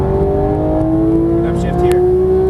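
A Porsche GT3 engine pulls steadily under throttle on a track, its loud, even drone holding close throughout while an instructor talks over it.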